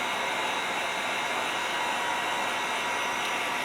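A hair dryer blows steadily on fresh paint on a scale model, giving a constant, loud, even hiss with no talk.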